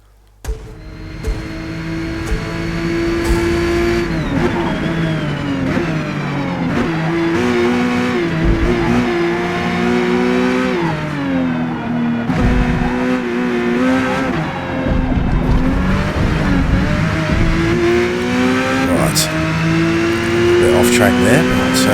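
A race car in Forza Motorsport accelerates hard down the long Mulsanne straight, its engine note climbing steadily through the gears with brief dips at each shift, loud and close throughout.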